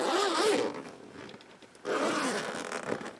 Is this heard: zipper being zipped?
yes